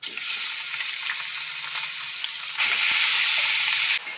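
About a kilogram of beef pieces sizzles loudly in a hot pot with whole spices such as cloves, a steady close frying hiss that swells louder toward the end.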